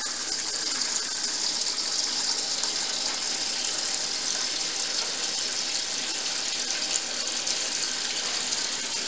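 Hot wort pours from the tap of a boiler during an all-grain home brew day, a steady, continuous gushing flow of liquid that holds an even loudness throughout with no talk.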